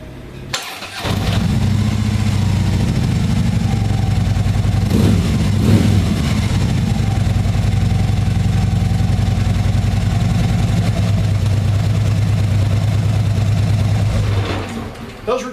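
A 2012 Harley-Davidson Street Glide motorcycle cranks and fires up, then settles into a loud, steady, deep idle with a brief blip of revs, close by, before shutting off near the end.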